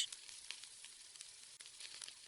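Cabbage, capsicum, soybean and peas fry in a pan, giving a soft, steady sizzle with faint crackles, quiet and close, with no talk.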